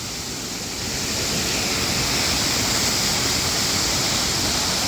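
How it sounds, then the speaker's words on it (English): Buttermilk Falls roars as a steady, loud wash of falling water, heard from the top of the waterfall. The rush is close and continuous, swelling a little at the start, with no voices. "this is the top of Buttermilk Falls"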